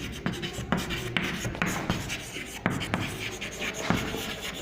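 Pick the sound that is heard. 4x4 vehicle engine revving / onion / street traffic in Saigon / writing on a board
writing on a board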